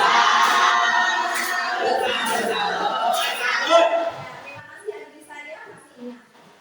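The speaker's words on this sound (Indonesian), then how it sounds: "kita berikan tepuk salam untuk Adrisa. Tepuk salut" Schoolchildren in a classroom perform a rhythmic clapping chant, loud and close, with several voices shouting along before it breaks up into scattered voices and a few claps.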